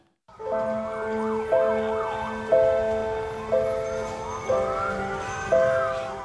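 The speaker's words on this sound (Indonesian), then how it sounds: "Iring-iringan rombongan ambulans yang membawa ke-13 jenazah korban kecelakaan maut bus pariwisata di Bukit Bego, Bantul, Yogyakarta tiba di RSUD Insinyur Soekarno" Siren from an ambulance convoy carrying the bodies of tour bus crash victims in Bantul, Yogyakarta, wailing in a steady repeating two-tone pattern that swells roughly every second, moderately loud with no talk.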